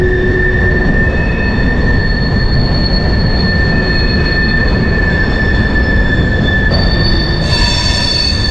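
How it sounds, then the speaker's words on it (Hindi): A long freight train rolls steadily past near The Forks in Winnipeg, giving a loud, continuous rumble with high metallic wheel squeal that rings throughout and shifts pitch near the end. "ट्रेन हाले भी गुजर रही है"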